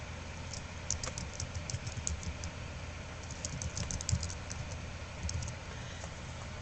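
A name being typed on a computer keyboard, heard as scattered light key taps over a steady low hum of background noise, with no one talking.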